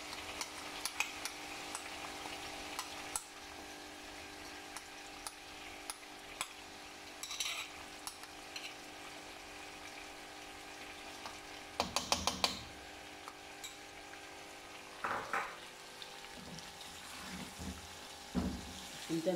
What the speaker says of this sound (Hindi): चमचा चला के इसको, चम्मच हिला के ना थोड़ा सा